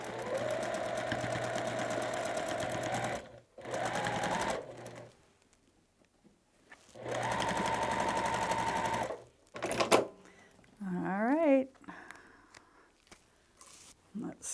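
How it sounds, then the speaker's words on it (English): A sewing machine stitches a quarter inch seam on a quilt block, running in a couple of steady whirring bursts separated by pauses, followed by fabric handling and soft rustling sounds. "You're still sewing that same 1/4 inch seam."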